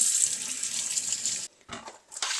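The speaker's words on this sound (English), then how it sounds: "Again, you're going to wash them" Potatoes being washed under a running kitchen tap, a loud steady stream of water that briefly cuts off, then splashes and resumes, close by.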